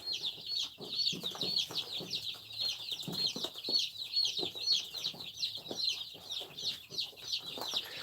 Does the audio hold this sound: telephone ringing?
no